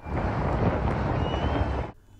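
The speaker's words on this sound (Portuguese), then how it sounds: "O som do avião é o anúncio de que os alimentos estão chegando." An aircraft flying over Gaza while dropping food aid, heard as a loud, steady, broad roar close overhead that cuts off abruptly near the end.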